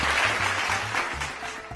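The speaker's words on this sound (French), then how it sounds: "Applaudissons pour Vladimir Poutine. Oui, applaudissez." A crowd claps steadily in a short, dense burst of applause at a public event honoring Vladimir Putin, with faint voices underneath.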